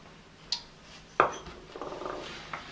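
Onions dropped into a warm skillet with olive oil: a couple of sharp pan clinks, then a light crackling sizzle that rises in soft bursts.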